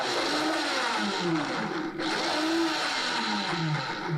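A kitchen blender chops garlic before oil is added, running loud and steady throughout with a continuous motor whir whose pitch sways up and down as the blades work through the cloves.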